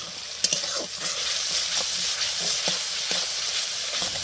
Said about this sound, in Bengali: তারপরে ওর মধ্যে ধনেপাতাগুলো দিয়ে ভালো করে কষাতে লাগলাম